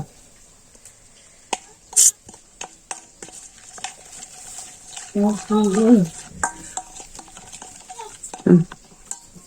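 A spoon stirs chicken biryani meat with salt in a pot, giving soft scraping and occasional clinks, with a few brief bursts of speech.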